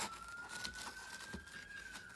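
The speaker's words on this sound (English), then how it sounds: "Wouldn't be one of my videos without a police car going by." A police car siren wails faintly outside, a steady drawn-out tone heard through the walls of an indoor workshop, distant and low under quiet room noise.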